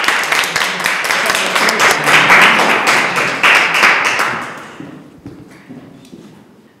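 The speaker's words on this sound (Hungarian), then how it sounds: "kérek egy tapsot Sátán Tamással!" Audience applause for a guest introduced on stage at a Hungarian school-series event, a dense crowd of clapping hands, steady and loud for about four seconds before thinning out and fading to scattered claps.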